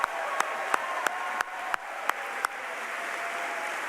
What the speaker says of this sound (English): let's give a big round of applause to all those people up there so they can hear you loudly